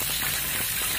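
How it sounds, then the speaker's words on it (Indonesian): Chili peppers and garlic frying in a pan of oil, a steady close sizzle with fine crackling that runs unbroken through the whole moment, with no voices over it. "Lalu untuk cabai sama bawang putihnya kita goreng terlebih dahulu"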